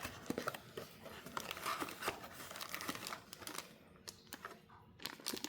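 Cardboard and plastic packaging of a Monster Hunter snack box being snipped and torn open, with close, irregular crinkling, rustling and cutting sounds that continue steadily throughout and have no talk over them.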